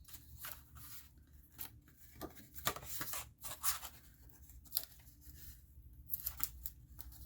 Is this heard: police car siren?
no